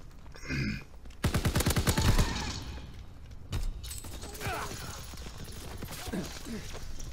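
Bursts of gunfire from Call of Duty WWII multiplayer, a loud volley of rapid shots followed by scattered further shots amid game noise, with someone talking over it.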